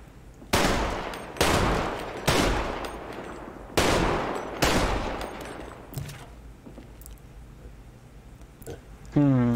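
Guns are test-fired inside a gun shop in the video game GTA V: six loud, sharp shots at uneven intervals, each with a decaying indoor tail, followed by a quieter stretch and a brief voice at the end.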